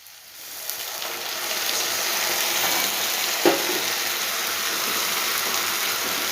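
A paste of ground ginger, garlic and green chili hits hot fried onions in a pan, setting off a steady, loud sizzle that holds throughout, with one brief stirring knock midway.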